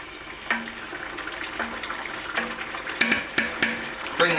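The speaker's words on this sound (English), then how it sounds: "I'm going to put in a good slosh, probably about 1/2 cup" Wine splashes into a pot of tomato sauce made from canned tomatoes, a short close liquid pour with soft glugs and small clinks over a faint background hiss.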